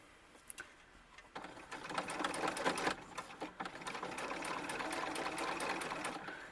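Sewing machine stitching fabric for a small ball-jointed doll bustier, starting with a few isolated clicks, then bursts of rapid whirring stitches that settle into a steady, close mechanical run.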